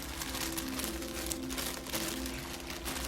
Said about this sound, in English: I opened it up, this beautiful lavender paper.